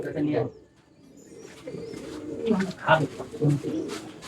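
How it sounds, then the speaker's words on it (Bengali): Pigeons coo in low, throaty bursts in a Madrasi pigeon loft in Kolkata, several birds overlapping with soft rhythmic calls, alongside a voice talking. "আর কিছু হলো ফুলসিরা লাইন বা সাদা লাইনের পায়রা রয়েছে"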